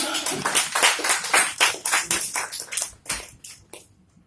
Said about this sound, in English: So give Ishwara a round of applause.